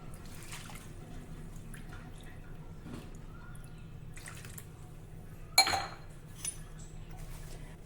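Water poured over jaggery in a bowl for a traditional Maharashtrian sweet, a quiet, intermittent trickle and drip with one sharper splash and clink partway through.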